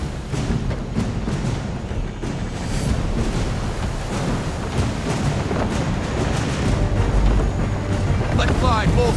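Strong wind rushes steadily around a sailing ship at sea in Assassin's Creed III, a loud, continuous roar of gusts and churning water with creaks from the vessel that swell toward the end.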